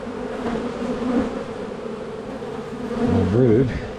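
Honey bees buzz steadily around an open hive during an inspection in a bee hut, a close, continuous droning hum that swells near the end as a few bees fly nearby.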